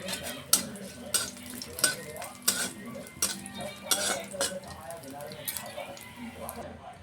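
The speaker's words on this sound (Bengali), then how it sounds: "এই নারকেলটা আমরা একটু হালকা করে ভেজে নেব।" Grated coconut fries lightly in a little oil in a wok. A spatula clinks and scrapes against the metal in repeated strokes over a soft sizzle, with a voice speaking alongside.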